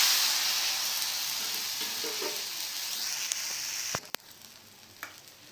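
Cabbage roti fries on a hot pan with a loud, steady sizzle that suddenly drops to a softer crackle after a brief clatter, as if flipped, leaving intermittent pops.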